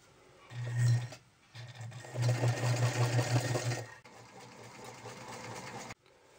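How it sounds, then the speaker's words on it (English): A sewing machine stitches the neck binding of a sweater from the wrong side, running in loud bursts with short pauses, its steady mechanical hum close and clear with no talking. "we're just going to stitch it from the wrong side right on top of that previous stitching line"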